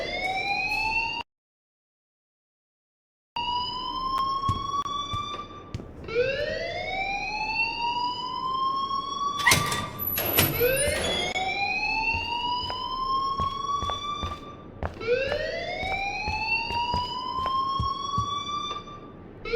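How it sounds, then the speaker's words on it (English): A fire alarm in the game Life is Strange rings loudly in repeated rising electronic whoops that cycle over and over, cut by one brief silent gap, with some sharp clanks mixed in. "please turn off that alarm since that's your job"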